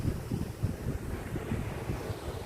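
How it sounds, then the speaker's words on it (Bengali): Strong wind blows by a riverbank, roaring and buffeting a microphone in continuous gusts with low rumbling bursts, loud and steady, with no voices. "নদীর ধারে ভীষণ হাওয়া চলছে"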